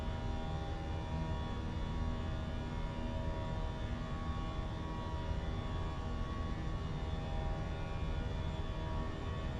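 A Fenix airliner accelerating in Microsoft Flight Simulator 2024 gives a steady, unbroken engine drone with a constant hum, even in loudness throughout and with no talking.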